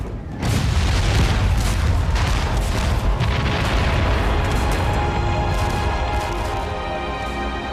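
British cannon fire in a 1776 bombardment of New York, heard as a loud, continuous roar of booming blasts and rumbling explosions. It starts abruptly after a brief quiet and holds heavy and dense throughout.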